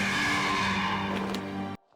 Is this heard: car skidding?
yes